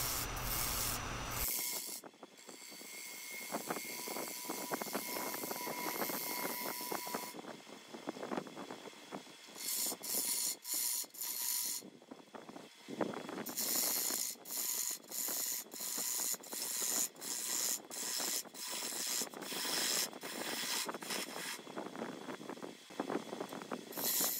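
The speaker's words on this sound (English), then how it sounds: "I'm just using a 1/2 inch bowl gouge here to do the majority of the work" A 1/2 inch bowl gouge hollows a wooden ogee platter spinning on a lathe, giving a steady, close, scraping and rushing cut with bursts of harsher shaving and brief breaks throughout.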